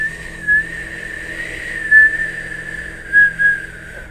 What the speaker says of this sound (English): on your next inhale, you're going to curl your mouth and whistle as you inhale